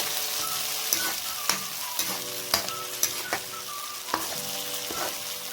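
Browned onions and tomato paste fry in a pan for an Assamese-style curry, giving a constant loud sizzle broken by repeated spoon scrapes and taps against the pan. No one talks.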